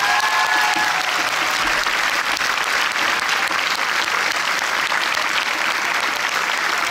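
Cinema crowd at a Paris film premiere at UGC Les Halles applauding a cast member, dense and loud sustained clapping that fills the room, with a brief tonal whistle-like sound near the start.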